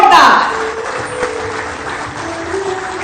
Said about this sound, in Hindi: आप सबकी तरफ से हम सभी के लिए तालियां हो जोरदार